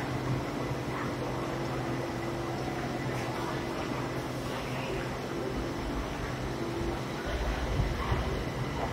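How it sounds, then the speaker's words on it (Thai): A BTS Skytrain rumbles into Siam station in Bangkok, a broad steady roar of wheels and motors with a faint hum, continuous and fairly loud. "ตอนนี้ก็มีรถไฟที่เข้ามาจากสนามกีฬานะครับ"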